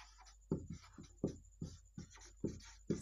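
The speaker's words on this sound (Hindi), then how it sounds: "आप लोगों को नहीं दिख रहा हो तो यहाँ पे लिख दें" Marker or chalk writing on a board during a geography lesson, a series of short scraping strokes repeating roughly every half second, close and fairly clear with no talking.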